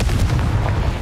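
A loud, deep blasting explosion from the Confringo spell in a video game, a single heavy rumbling boom that fills the whole moment without any talk over it.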